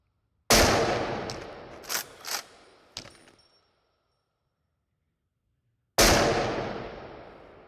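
Loud sniper rifle shots in a VR shooter: a sharp blast with a long decaying tail, a few brief mechanical clicks and clacks as the rifle is reloaded, a pause of silence, then a second loud shot ringing out.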